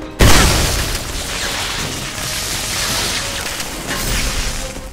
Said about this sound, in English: I'm gonna kill someone with a shotgun